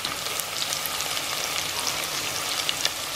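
Ginger garlic paste hits hot oil in a pan while cooking a Diwali lunch, giving a steady, close, dense sizzle with scattered small pops and crackles throughout.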